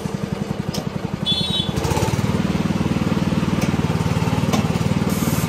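A Wagner Titan 6955 road marking machine runs close by with a loud, steady rapid engine-like chug. The pulsing grows denser after a brief change near the start and continues without break.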